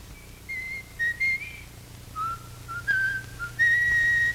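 A man whistles a lilting tune in 1930s London, each phrase a clear sustained melody with short pauses between, close and fairly loud over a low steady background hum.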